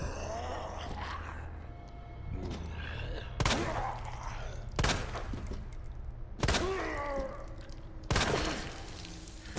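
Four loud, evenly spaced gunshots in Resident Evil 2 Remastered, each a sharp crack with a short ringing tail, mixed with groans and creature sounds in between.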